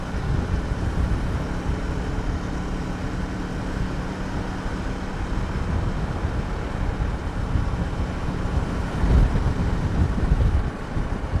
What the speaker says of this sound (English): holy cow, it's windy. I don't know if you can hear the wind